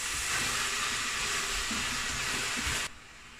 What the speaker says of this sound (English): As this is frying, the mushrooms will be releasing some of their juices.